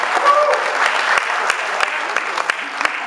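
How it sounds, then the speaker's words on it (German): An indoor show audience in Rüsselsheim claps steadily and loudly for about three seconds, a dense close applause with a few sharper individual claps, and no one speaking over it. "Klatschen wir mal auf."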